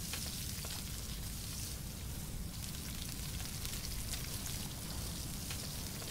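Steady crackling sizzle of food cooking over a campfire in the survival game Stranded Deep, a dense, continuous hiss with rain-like pops throughout, moderately loud and uninterrupted.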